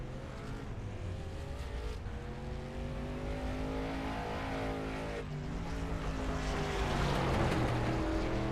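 A late model stock car runs a timed lap on a speedway, its engine a distant, droning roar that rises steadily in pitch and loudness as the car approaches across the line.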